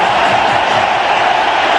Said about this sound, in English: Now, have a look at the crowd. The atmosphere here is electrifying.